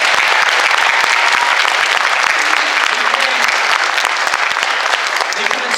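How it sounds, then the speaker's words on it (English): Dense, loud audience applause for drama teachers at a high school drama production, steady clapping from a large crowd throughout with no break. "Can we just give them a round of applause?"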